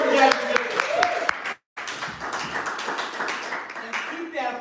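An audience at a live comedy stream claps and applauds steadily, with a short silent gap in the middle, then the clapping resumes.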